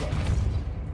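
A Depulso spell cast in Hogwarts Legacy, a short forceful magical burst with a low thump and whoosh that fades within a second.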